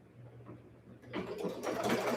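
A home embroidery machine runs a placement stitch, its motor whirring up after a quiet start and settling into a steady, close, fairly loud mechanical hum for the second half.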